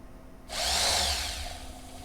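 A small brushed electric motor runs at low voltage, spinning up into a whirring whine that swells briefly and then eases, close by with a faint hum underneath.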